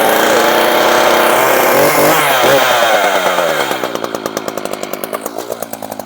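An Echo CS 590 chainsaw runs after a cold start on a freezing day, revving loudly and close up, then dropping to a choppy, pulsing idle.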